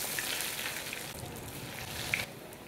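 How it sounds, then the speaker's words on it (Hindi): Breadcrumb-coated bread pieces frying in hot refined oil, a faint, steady crackling sizzle that carries on with no break. "रिफाइंड डालकर पैन को रख दिया गर्म होने के लिए। एक एक करके डालें"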